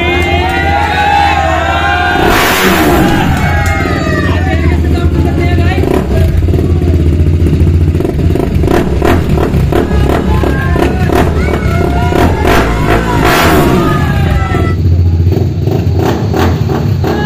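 A non-stock motorcycle engine revs loudly in repeated bursts at a bikers' meet-up, rising and falling close by, with a rumbling idle between and voices talking in Hindi underneath.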